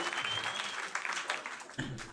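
Audience clapping at a comedy show, a dense patter of hands that holds steady, then briefly swells again toward the end.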